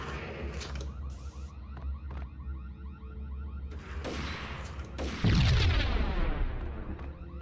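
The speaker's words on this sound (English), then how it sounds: "It's a good explosion sound effect." Explosion in the Max Payne video game, a sudden loud booming burst that swells and rolls off amid scattered gunfire-like cracks and mechanical clanks in the game soundscape.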